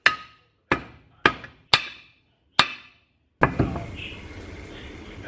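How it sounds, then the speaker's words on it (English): A ball joint splitter on a car struck with a hammer: five sharp, loud metallic blows at uneven intervals, each ringing briefly, followed by a scraping, rattling clatter of metal. "so I'm going to use my ball joint splitter"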